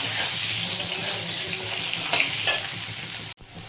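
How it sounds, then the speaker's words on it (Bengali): Potatoes seasoned with salt and turmeric frying in a pan give off a steady close sizzle, with a few brief stirring scrapes and a sudden cutoff near the end. "ভালো করে ভেজে নেব লম্বা করে"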